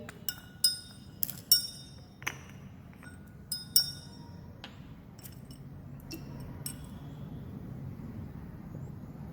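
Several sharp, light clinks ring out as a glass dropper taps a watch glass while concentrated hydrochloric acid is added in a lab, irregular taps over a low rumble of distant traffic.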